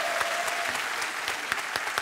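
A studio audience at a Korean comedy show applauds, a dense, steady burst of clapping from a crowd, moderately loud and continuous, with a few sharper individual claps standing out.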